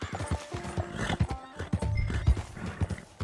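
Galloping horse in Red Dead Redemption 2, steady rhythmic hoofbeats with snorts and whinnies, close and fairly loud, with a few shouted voice fragments over it.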